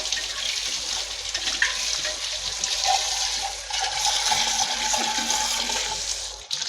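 Water splashes and pours steadily into a clay water pot nearby, a continuous rushing, gurgling sound with no talking.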